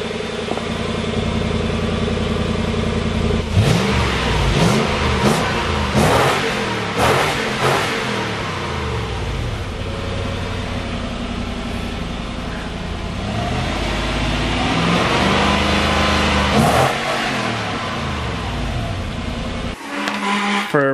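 A V8 Toyota 4Runner with its muffler deleted revs loudly near the microphone, with sharp throttle blips and a steady rumbling idle in between while cars are shuffled around a shop for welding.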